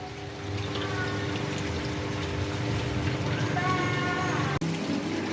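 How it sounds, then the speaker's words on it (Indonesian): Rain pours steadily into a partly roofed RAS tilapia fish pond, a continuous broadband wash of drops and splashing water with a faint low hum beneath, close and even throughout with one brief dropout near the end. "jadi setengah kolam terkena hujan"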